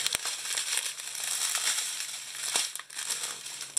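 Plastic packaging crinkles and crackles continuously as a diamond painting kit is unboxed, close and fairly loud, with a few sharper snaps and no talk.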